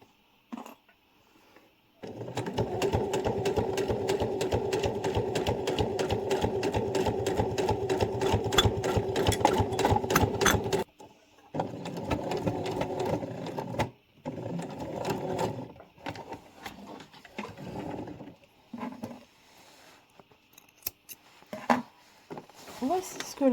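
A sewing machine stitching a cushion cover runs in a fast, loud, steady mechanical whir for several seconds, stops, then restarts in shorter bursts with pauses between, close by.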